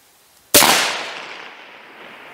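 One loud, close rifle shot cracks outdoors in winter and then rolls away in a long, fading echo, with no ring of steel standing out clearly.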